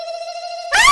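A telephone rings with a steady electronic tone for most of a second, loud and close, before a sudden brighter noisy burst cuts in at the end.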